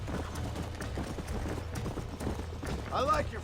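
Hooves clip-clop at a walk in the Red Dead Redemption video game under ongoing talk, followed by a short whinny near the end.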